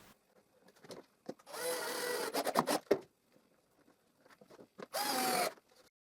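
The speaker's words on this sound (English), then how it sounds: "I will root a hole that is exactly as high and as wide as the router bit" A router cuts a hole into a plywood jig in short bursts: a couple of brief high whines lasting under a second each, separated by clicks and quiet gaps.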